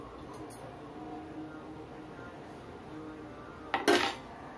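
A metal fork clinks and presses against a plate while crimping the edges of egg snack dough, one short crisp burst after near silence.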